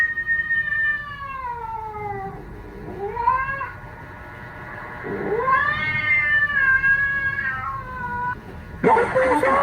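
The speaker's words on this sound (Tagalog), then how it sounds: "Ang laking pusa naman na to." A big cat meows and caterwauls in long, wavering cries that rise and fall, several drawn-out calls close by, ending with a sudden harsher burst.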